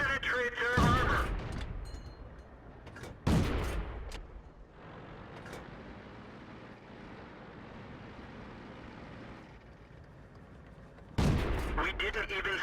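Tank guns fire in a tank video game: three heavy booming shots, loud and close, each followed by a long rumbling decay, with a steady engine drone between them.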